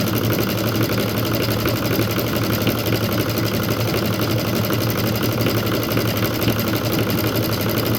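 Sewing machine stitching cording together for a fabric bowl, a dense steady mechanical whir with a rapid fine rattle, loud and close, running continuously without pause or voices.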